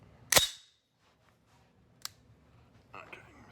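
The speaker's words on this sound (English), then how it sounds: "I'm gonna go ahead and drop the bolt, and we're gonna see how the trigger feels" On a GA Precision GAP-10 rifle, the bolt drops with one sharp metallic clack close up. A quieter click follows later as the trigger is dry fired, then a soft rustle of handling.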